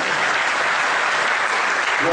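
Sustained applause from an audience at a 16-player training session, honouring young players, a dense steady wash of clapping lasting throughout, close and loud with no gaps.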